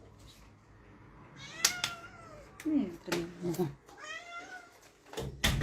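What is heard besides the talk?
cat meowing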